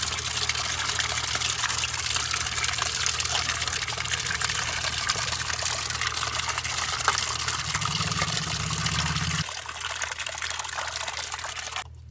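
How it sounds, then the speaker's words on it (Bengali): Cold water pours and splashes steadily over cut stingray fish being washed, a loud continuous gush close by that shifts in tone near the end before suddenly easing off. "মাছ তো কাটা হয়ে গেছে এবার ধুয়ে নেবো প্রথমে ঠান্ডা জল দিয়ে ধোবো"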